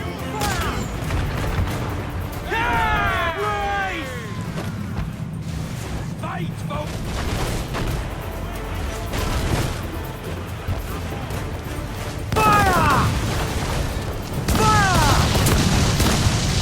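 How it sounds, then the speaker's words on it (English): Ship cannons boom repeatedly across a naval battle in Assassin's Creed IV: Black Flag, with heavy low blasts in bursts and a rumbling undertone, mixed with crew shouting and voices throughout. "To quarters all, man the cannons!"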